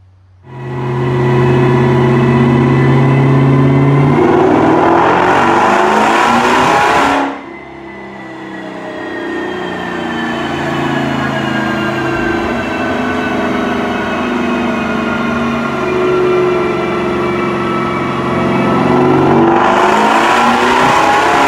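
A Jeep Trackhawk engine on a dyno roars through two long, loud wide-open pulls, the pitch climbing steadily each time, separated by a sharp drop back to a lower, rising drone.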